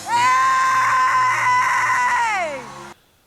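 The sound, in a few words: woman screaming in a played video clip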